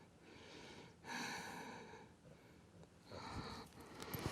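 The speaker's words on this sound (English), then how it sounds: "I love the sounds of dog breathing" A dog's breathing, heard as soft, close snorts and sniffs in a few uneven bursts during a quiet home yoga session, faint but clear with no talk over it.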